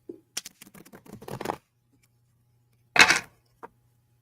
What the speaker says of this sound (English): Yeah, we're going to give it a shuffle.